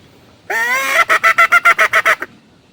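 A homemade pakakak horn mimics a wild junglefowl's crow: one held, slightly bending honk followed by about nine quick, evenly pulsed honks, loud and near.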